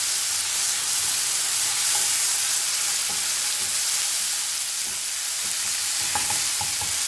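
Tomatoes and cluster beans sautéing in a pan, a continuous hissing sizzle with scattered scraping stirs and spatula taps, no voices.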